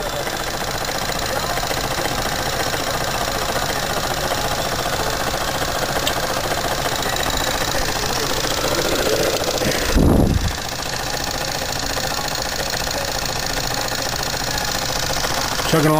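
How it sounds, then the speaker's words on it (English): A Jensen 20 double-boiler toy steam engine chugs steadily while driving two stepper-motor generators, a continuous close mechanical churn with one brief thump partway through. "here's the double boiler 20, effortlessly lugging two stepper generators"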